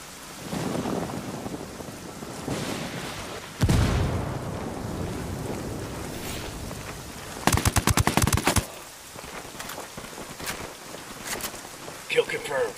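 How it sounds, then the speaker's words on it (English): Gunfire and mortar blasts sound during a firefight in the video game Tom Clancy's Ghost Recon Wildlands: a heavy boom, then a rapid burst of automatic fire and scattered single shots at moderate loudness. A voice talks over the fighting at times. "Damn, these guys got mortars."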